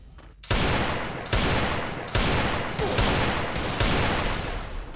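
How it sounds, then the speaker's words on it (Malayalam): Loud gunfire in a shooting video game, including headshots, comes in about six sharp bursts spaced roughly a second apart, each one ringing out and fading before the next. "റോഫക്സ് ഹെഡ് ഷോട്ട് അടിച്ചു ഗൈസ്."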